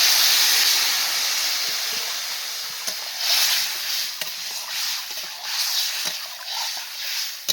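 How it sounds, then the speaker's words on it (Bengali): Broth is poured into a hot pan of frying tangra fish curry with potatoes, setting off a loud, close, steady hissing sizzle that slowly eases and then bubbles unevenly. "এখন কিন্তু আমি পরিমাণ মতন ঝোলটা দিয়ে দিচ্ছি।"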